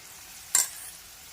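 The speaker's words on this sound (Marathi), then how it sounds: "थोडेफार 2 ते 3च एका वेळेला तळायला टाकून घ्यायचे" Batata vada dropped into hot oil in a kadhai, a sudden short burst of sizzling that quickly settles into a faint bubbling hiss, with no voices.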